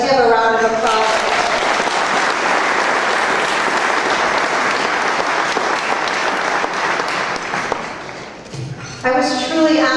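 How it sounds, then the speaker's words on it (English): Loud, sustained audience applause at a mental health association awards ceremony in Erie County, a dense wash of many hands clapping close by that fades near the end as a voice returns. "Let's have a round of applause."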